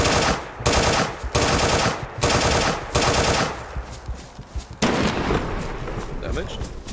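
Bursts of automatic gunfire in the video game DayZ, several loud sustained volleys separated by short gaps, followed by scattered quieter shots and background noise, with a voice briefly speaking underneath.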